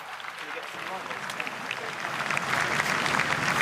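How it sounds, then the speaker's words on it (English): Scattered applause breaks out spontaneously among a crowd gathered after the Queen's death, soft and distant at first and swelling a little toward the end, with voices faintly mixed in. "And there you can hear, every now and again, breaking out just spontaneous applause."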